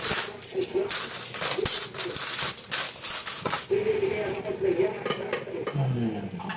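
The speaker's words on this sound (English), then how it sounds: "We really need to dry this also to avoid rust because this is the only utensils that we love." Metal kitchen utensils being dried and handled after a fiesta, sharp clinks and clatters of metal knocking together in irregular bursts, close by, with someone talking in between.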